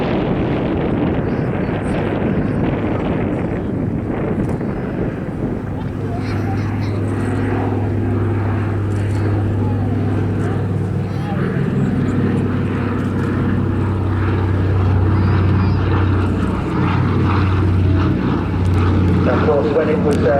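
A PBY-5A Catalina seaplane with twin radial engines roars past at an airshow with a loud, continuous engine drone and deep steady hum; a voice talks over it amid wind noise.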